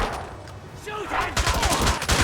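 Gunfire in James Bond 007: Blood Stone, with a quiet stretch and a brief shouted voice before rapid overlapping shots burst in loud, continuous and close for the final second.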